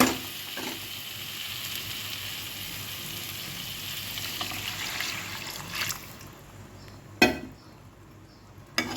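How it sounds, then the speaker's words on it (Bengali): Fried masala for tomato paneer keeps up a steady, close sizzle in the pan, and warm water poured in brings a sharp splash and a hiss near the end. "এই পর্যায়ে আমি উষ্ণ গরম জল অ্যাড করে দেব"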